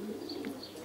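Pigeons coo softly at a racing pigeon loft, a low murmuring burble that runs steadily through the whole short stretch with faint higher chirps above it and no talk.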